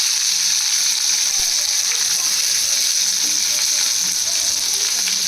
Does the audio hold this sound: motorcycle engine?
no